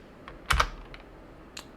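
Clicky keystrokes on an IBM computer keyboard: a loud close double clack, then a few lighter scattered taps and one more sharp click, with no talking.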